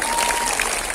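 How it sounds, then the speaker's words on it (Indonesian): A crowd applauds for a police chief at an Indonesian comedy roasting event, a loud, dense burst of clapping filling the short moment, with faint crowd noise underneath. "Tepuk tangan dulu dong buat Kapolres kita"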